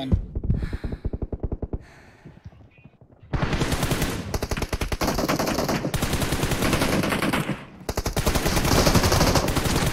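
Sustained bursts of M249 machine gun fire in a team deathmatch shooter video game, rapid and loud, rattling almost continuously for several seconds after an earlier string of separate shots.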